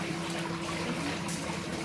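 Soft, steady water splashing and sloshing from a swimmer moving face down in an Endless Pool, faint and continuous, with no talking.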